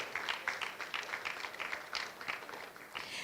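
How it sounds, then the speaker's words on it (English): A live event audience claps for a sponsor, a dense and fairly faint patter of many hands that keeps a steady pace for a few seconds, heard from a distance and with no voices over it. "you're going to make that applause a lot louder"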